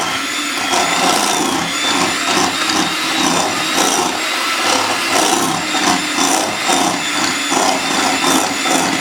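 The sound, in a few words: electric mixer mixing lemon cream with half and half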